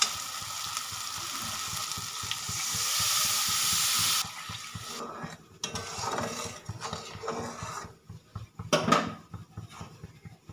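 Water poured into a pan of spice paste frying in oil for vegetarian aloo fulkopi: a loud steady sizzle that abruptly collapses into bubbling, stirring scrapes and clinks of a spoon against the pot.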